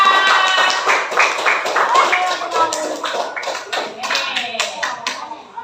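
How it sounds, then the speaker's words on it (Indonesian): A classroom of students claps for a classmate, a dense run of hand claps lasting several seconds with voices mixed in among them. "kita kasih tepuk tangan buat si Bella"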